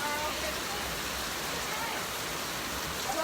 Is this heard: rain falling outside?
yes